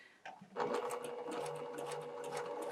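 A sewing machine stitches a curved patchwork seam in cotton fabric, a steady close whirring drone with a rapid mechanical chatter running unbroken after a short start-up.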